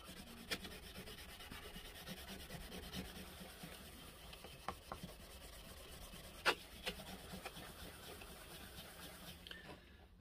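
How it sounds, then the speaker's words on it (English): Wire wool rubbed over a Stanley 4 1/2 hand plane during restoration, a steady scratchy scrubbing texture running throughout, close up, with a few sharper clicks and knocks scattered along the way. "Fresh piece of wire wool, just to move any of the bits about."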